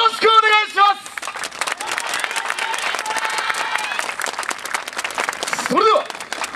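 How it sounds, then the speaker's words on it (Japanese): Crowd applause and cheering at the Inuyama Odorigei yosakoi dance festival final, a dense steady wash of clapping with whoops rising over it, bracketed by loud amplified voices at the start and end. "ご声援手拍子よろしくお願いします"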